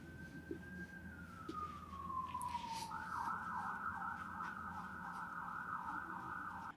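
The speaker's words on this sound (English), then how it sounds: "Fucking sirens." A siren wails at moderate distance, a long falling tone that shifts into a rapid warbling yelp, steady over background traffic rumble.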